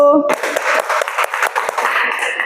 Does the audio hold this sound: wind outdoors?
no